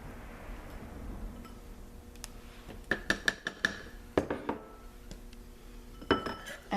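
A spatula stirring super fats into hot process lemongrass soap in a crock pot, giving sharp clinks and taps against the pot in irregular clusters over a soft background.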